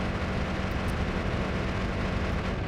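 Noita wand spells from a badly built wand blast out as a dense, continuous roaring hiss, loud and unbroken throughout with no voices.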